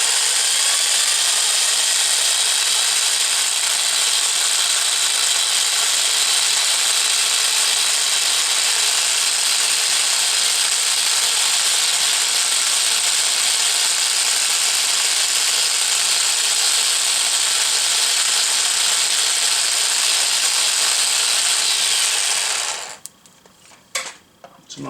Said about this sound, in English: This is going to be noisy because the drill is noisy.